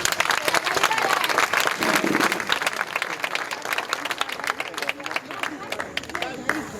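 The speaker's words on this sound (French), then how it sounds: "Merci d'applaudir, s'il vous plaît." A large audience at an outdoor stage show bursts into loud, dense applause that runs throughout, with scattered individual claps and faint crowd murmur underneath as it gradually loosens.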